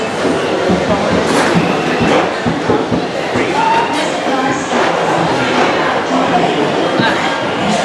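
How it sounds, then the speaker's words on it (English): A Disney dark-ride train for The Many Adventures of Winnie the Pooh rumbles and clatters in close to the loading dock, steady and loud, with crowd noise and voices mixed in around it. "Here comes our train now."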